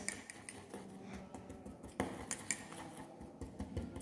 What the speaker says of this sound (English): Yes, I am mixing with the help of spatula